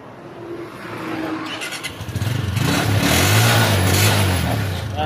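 A Honda TMX125 Alpha motorcycle, its wiring fault just fixed, cranks on the electric starter and catches, settling into a close, steady idle that swells slightly after a brief whir at the start.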